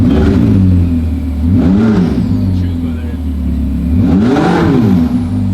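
A hypercar engine idles steadily, then is revved sharply twice, each rev rising and falling in pitch, loud and close with a low rumble throughout.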